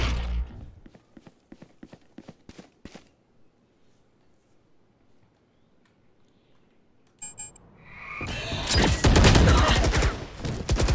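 Gunfire in the Valorant video game: sparse rapid shots at first, then a quiet pause, then a loud dense burst of firing and impacts near the end.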